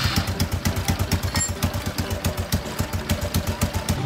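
A Honda Wave 110R motorcycle engine with an exhaust leak runs steadily nearby, its fast, even puffing pulses chuffing out without any talk.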